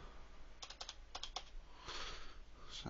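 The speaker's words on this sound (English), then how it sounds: "I can still type in there." Faint computer keyboard typing, a few quick clustered keystrokes in small bursts, tapped softly over a quiet background.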